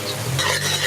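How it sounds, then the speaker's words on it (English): Aromatics hit hot oil in a cooking pot for stewed gizzards, giving a steady, close, loud sizzle that lasts the whole second without talk. "when you add those aromatics, it has to make a cha sound."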